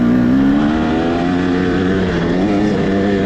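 A 2023 KTM 300 XC two-stroke enduro dirt bike accelerating in second gear at Peach Valley; a loud, close, sustained engine drone holding a steady, slightly wavering pitch with no pauses.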